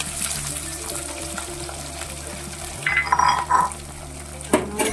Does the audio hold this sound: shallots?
yes